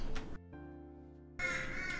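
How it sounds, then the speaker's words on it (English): A crow cawing outdoors behind a room, one long harsh drawn-out caw standing clearly above quieter background noise. "Is it like... is it obviously birds behind me?"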